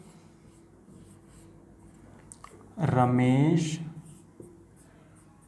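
Pen or chalk scratches steadily on a surface while a teacher writes out a name during a writing-skills lesson for school students, with a short burst of nearby speech partway through.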